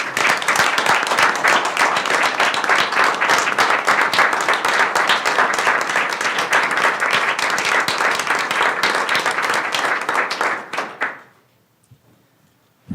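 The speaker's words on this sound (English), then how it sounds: "I ask that we give him a round of applause" Sustained, vigorous applause fills a Board of Trustees meeting room for about eleven seconds, then stops abruptly into near silence with a single soft thud.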